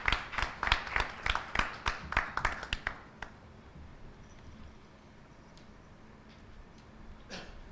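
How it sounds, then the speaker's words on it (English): Rhythmic, fairly close clapping of about a dozen distinct claps from an awards ceremony audience at the 9th CSR Health Impact Awards, tapering off after three seconds into a quiet room with a few faint stray sounds. "Please give a round of applause to Justice Patantra Kumar."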